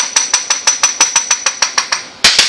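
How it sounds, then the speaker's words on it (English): A hammer taps gasket material over a sharp edge to cut it, about a dozen crisp, evenly spaced close knocks in a steady rhythm, ending with a quick double tap. "you can keep tapping, tap, tap, tapping, and you will eventually sever this edge"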